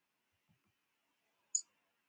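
A single sharp click of a computer mouse, close and isolated in near silence, preceded by a faint low bump.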